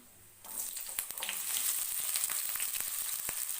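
Mustard seeds, cumin, garlic and onion hit hot oil for poha upma, bursting into a loud, steady sizzle after a quiet start, dotted with sharp crackles and pops from the seeds.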